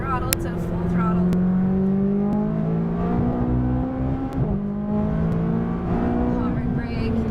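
A McLaren 570S on a race track pulls hard at full throttle, its engine note climbing steadily and loud and close, with a brief dip mid-run before rising again, while a voice talks over it.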